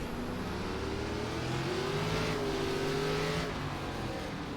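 Stock car engines in an iRacing NASCAR race of the ARCA West Series at the LA Coliseum drone steadily, several cars close together with a rising and falling engine whine and constant loud rumble.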